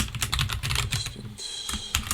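Rapid, uneven keystrokes clatter on a computer keyboard during a coding interview practice session, a close and steady run of clicks with a brief lighter pause midway.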